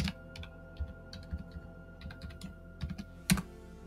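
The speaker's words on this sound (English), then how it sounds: "So key in your password." A password being typed on a computer keyboard attached to a 2011 Apple iMac, with a quick run of close, light key clicks in an uneven rhythm and one louder tap near the end, in a quiet room.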